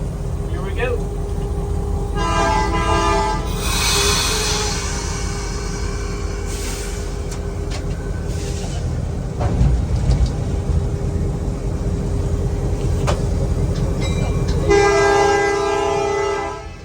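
A train rumbles steadily beneath the ride in the cab of a locomotive pulling a Christmas train. Horn blasts sound near the start and again at the end, and people talk now and then over the engine noise.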